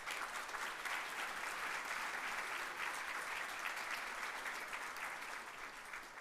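An audience at a community awards ceremony applauds the awardees with sustained, dense clapping that stays even throughout, heard moderately from within the room.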